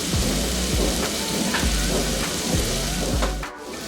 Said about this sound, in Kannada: ಅಲ್ಲಿ ತನಕ ಇದನ್ನು ಇದೇ ರೀತಿ ಎಣ್ಣೆಯಲ್ಲಿ ಫ್ರೈ ಮಾಡ್ಕೊಳ್ಳೋಣ